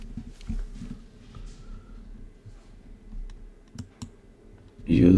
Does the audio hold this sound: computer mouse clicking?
yes